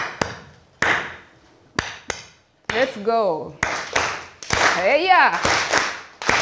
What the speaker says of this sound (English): To just teach you a hand clap from Rwanda.